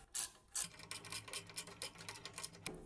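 Close scraping, ratcheting and grinding of a part being unscrewed by hand from a microwave oven, with two sharp clicks at the start followed by irregular rasping twists.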